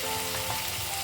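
Red chili powder goes into a vegetable curry in a hot pan, where a continuous, even oil sizzle hisses alone for about a second.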